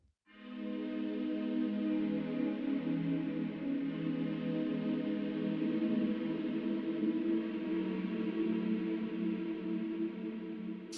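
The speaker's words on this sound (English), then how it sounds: "It's like a 10-second reverb afterwards." Bansuri flute drenched in a long, dark Valhalla Supermassive reverb, blurring into one steady, swelling drone that sustains evenly for about ten seconds without pause or talking.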